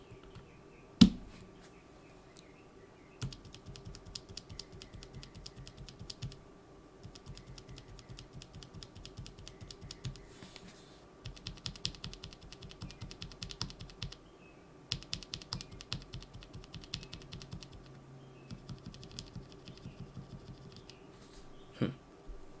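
Bursts of rapid typing on bare NovelKeys x Kailh Chocolate Cream mechanical switches with no keycaps fitted, close and crisp, in several runs separated by short pauses, with a couple of sharper knocks at the start and end.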